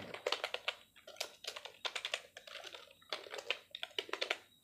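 Rapid bursts of keystrokes on a computer keyboard during a stenographer typing exam, with short clustered runs of clicks separated by brief pauses, close and clear with no talking.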